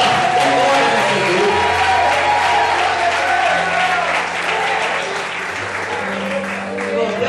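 Loud, continuous applause from a church congregation fills the space throughout, with cheering voices and a sustained organ or keyboard tone underneath.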